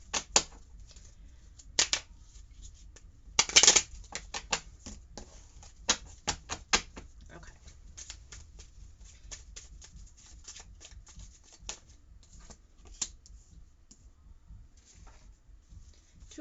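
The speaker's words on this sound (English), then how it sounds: "So we're just going to shuffle up the cards a little bit." Tarot cards are shuffled in short riffling bursts and soft slaps, with quiet gaps between, close up and otherwise fairly quiet.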